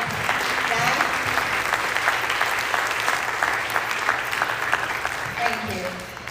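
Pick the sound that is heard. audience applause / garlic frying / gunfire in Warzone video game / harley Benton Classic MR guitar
audience applause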